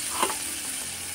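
Water poured into a hot frying pan of cooking spices, bursting into a brief hiss around the pour and settling into a steady, close sizzle.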